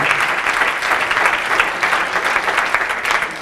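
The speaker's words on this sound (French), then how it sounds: "on peut l'applaudir." Steady, dense applause from a conference audience at a gender equality event, loud and sustained throughout.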